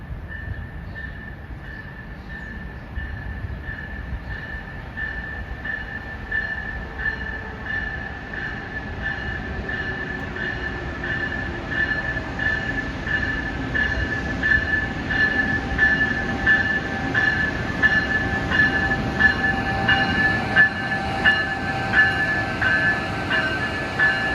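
A train arriving at Metropark station on the Northeast Corridor in New Jersey rumbles steadily closer, with a sustained wheel squeal or whine and rhythmic clicking of the cars over the rails that grow louder over roughly twenty seconds.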